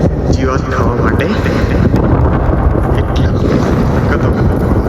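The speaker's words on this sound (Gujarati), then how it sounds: "ઠંડો ઠંડો વાયરો આવે છે." Strong, steady wind roars and buffets the microphone across an open farm where cows are grazing, a loud, continuous rush with no breaks.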